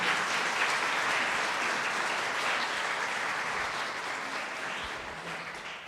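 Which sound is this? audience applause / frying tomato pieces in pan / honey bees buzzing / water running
audience applause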